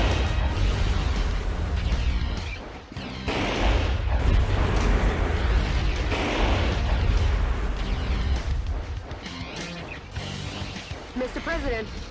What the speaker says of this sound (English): Okay, got a gun. The HKNB. I think that's a shotgun